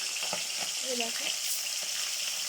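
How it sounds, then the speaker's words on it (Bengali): Tilapia pieces fry in hot oil with a loud, dense sizzle that fills the whole clip, plus a few faint knocks in the background and no clear speech. "এবার আস্তে আস্তে আমরা মাছগুলো দিয়ে দিচ্ছি। দেখতে পাচ্ছ কেমন আওয়াজ হচ্ছে।"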